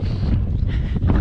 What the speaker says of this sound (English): it's so windy, you're not going to be able to hear me